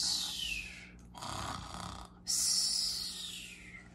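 A narrator reading a children's story aloud imitates snoring with the voice, giving a few drawn-out breathy snores in a row, close and fairly loud with no other talk.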